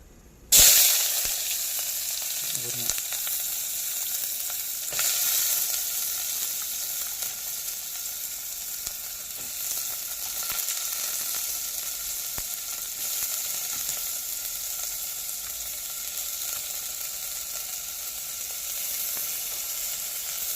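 Onions dropped into hot oil in a pan for Arabic chicken kabsa, with a sudden burst of loud sizzling that settles into a steady, close frying hiss and occasional stirring.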